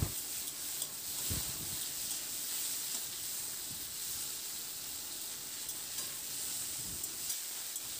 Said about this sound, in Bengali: এবার লবণ আর হলুদটা দিয়ে আলুটাকে কয়েক মিনিটের জন্য একটু নাড়াচাড়া করে আলুটাকে একটু প্রথমে ভেজে নিতে হবে।